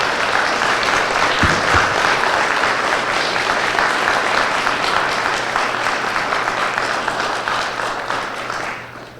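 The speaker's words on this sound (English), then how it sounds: "Let's give these guys a round of applause." A crowd at a university business model competition gives student competitors a sustained round of applause, steady and full for most of the stretch before thinning out at the end.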